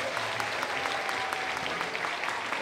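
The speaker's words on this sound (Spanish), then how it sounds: "Ese fuerte aplauso que se escuche" Audience applause at a traditional Purhépecha carnival contest, El Torito de Carnaval in Caltzontzin, sounding as steady, dense clapping from a crowd throughout, with a faint tone running underneath.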